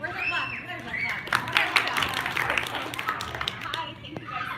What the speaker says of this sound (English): Where's her clapping? There's her clapping.